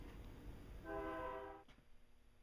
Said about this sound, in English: And train coming.